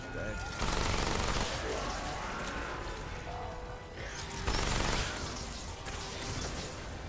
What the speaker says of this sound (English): God, I love the SMG so much.